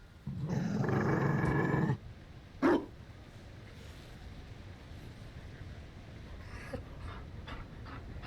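A Mabari war dog pants loudly in Dragon Age Inquisition: Trespasser, a dense breathy burst lasting under two seconds, then a short sharp huff, with quiet game ambience after.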